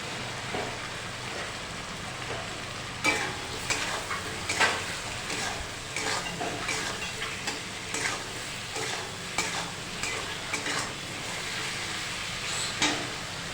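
Cut eggplant going into softened onion and tomato in hot oil, a steady sizzle punctuated by repeated sharp spatula scrapes and clacks every second or so, close and busy.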